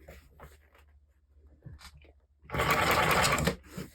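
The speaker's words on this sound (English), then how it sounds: "I'm just gonna put in a few stitches around them" Sewing machine puts a few reinforcing stitches around small holes in fur mittens: a loud, fast, close mechanical whirring burst of about a second after quieter handling noises and faint talk.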